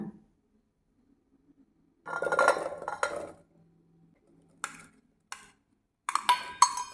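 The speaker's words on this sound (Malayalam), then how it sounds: "മുറിച്ച് വെച്ച കഷ്ണങ്ങളിന് കുക്കറിലേക്ക് ഇട്ട് കൊടുക്കാം" Metal and kitchen clatter: a burst of clinking vegetable pieces dropped into a pressure cooker, then a few sharp separate clanks, close by with quiet gaps between.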